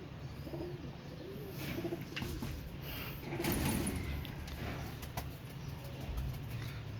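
A Teddy pigeon, a male, coos softly in a few low, rolling calls at close range, with light rustling and other faint bird sounds around it.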